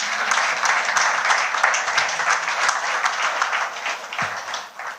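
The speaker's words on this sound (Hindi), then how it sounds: "ताली कौन बजाएगा?" Audience applause fills a hall at a scholars award ceremony, a dense, steady clatter of many hands that holds for several seconds and eases slightly at the end, with no voices over it.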